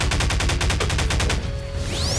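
Rapid automatic gunfire from weapons in Garry's Mod, loud and close, fires as a fast even burst of shots for about a second and a half, then breaks off into a short ringing tail with a rising whistle-like tone, no talk.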